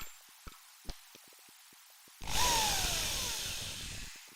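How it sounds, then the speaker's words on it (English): Sharp clicks from tightening a drill chuck with a chuck key, then a power drill whirs into a wooden board, countersinking a screw hole with a steady, close, loud grinding whine that slowly eases off. "I will countersink this hole to fit this screw"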